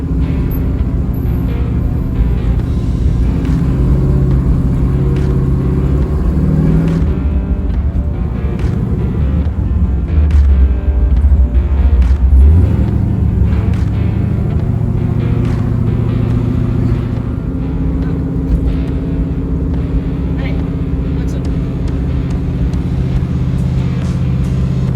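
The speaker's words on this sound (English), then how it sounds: "I'm gonna go take the car for a quick drive" A car on a quick drive, a continuous loud engine drone with shifting pitch and rumbling low end, gear changes audible midway, heard from inside the vehicle with no talk.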